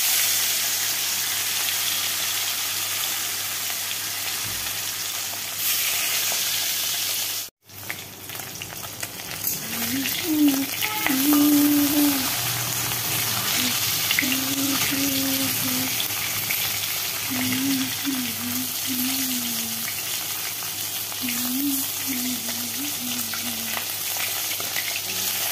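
Food fries in very hot oil in a kadai during a night cooking session, a steady close sizzle that keeps going throughout, broken briefly by a sharp cut. A voice hums or talks softly over it.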